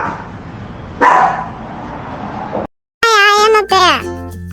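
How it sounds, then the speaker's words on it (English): A cartoon-style dog sound in a children's animal lesson: about 1 second in, a loud, sharp bark-like burst breaks through a kid's spoken narration. Later come bright, stacked, whistling animated tones. "Hi kids, I am a dog."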